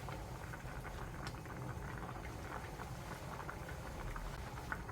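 A pot of frozen pollock stew, dongtae-jjigae, simmers on the stove with a soft, steady bubbling and faint popping patter, quiet and continuous with no talk.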